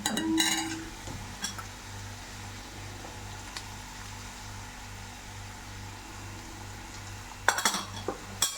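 Chili powder and cumin seeds are stirred in a pan, with a few soft scrapes and clinks of a utensil against the metal over a low steady hum, plus a brief clatter near the end.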